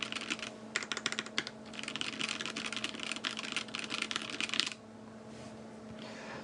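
Rapid typing on a KBDFans D60 Lite 60% mechanical keyboard, dense clacky keystrokes in quick bursts with a short pause, then stopping abruptly, heard up close over faint background music.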